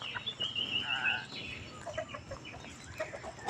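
Chickens clucking in the grounds of a Buddhist temple, Wat Pong Chai in Chae Hom, Lampang, with several short close clucks and squawks scattered over quiet background noise.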